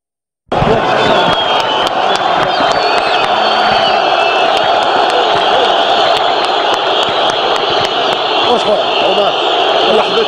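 Supporters of MC Alger (Mouloudia) roar and cheer at the 5 Juillet stadium in Algiers, a dense, loud crowd din with shouts and whoops that runs steadily throughout.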